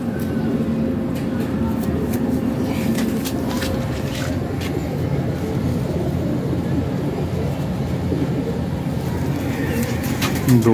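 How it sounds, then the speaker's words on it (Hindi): Pigeons, including a black-cumin pigeon, coo softly and repeatedly over a steady background hum, with occasional flutters and clicks nearby. "काला जीरा कबूतर।"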